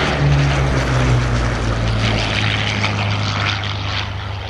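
Hawker Sea Hurricane fighter powered by a Rolls-Royce Merlin 12-cylinder engine flies past at an air display, a loud, steady propeller-engine drone that fades slightly as it moves away.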